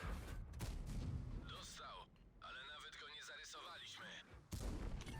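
Tank cannon fire in the World of Tanks video game, heavy booming shots and blasts in a dense battle mix, with players talking over the action.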